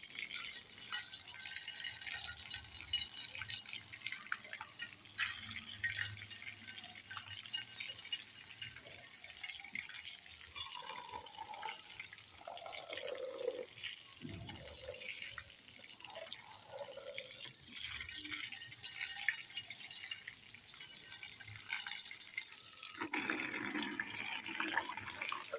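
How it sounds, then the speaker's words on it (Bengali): Dinner plates washed under a running tap, a faint low water stream with light clinks and rattles of dishes, fairly quiet and steady. "খাবারের পর তাদের প্লেটগুলো ধুয়ে দিই"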